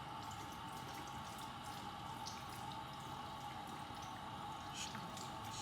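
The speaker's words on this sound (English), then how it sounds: "Turn on some warm water." Warm water runs from a tap in a steady, soft, even stream with faint splashing, continuous and fairly quiet throughout.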